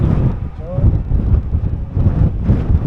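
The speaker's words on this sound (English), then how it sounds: "Very windy." Strong wind gusts buffet the microphone outdoors by the water on an eel fishing trip, a loud continuous low roar that swells and eases in uneven waves, with a voice faintly audible beneath it.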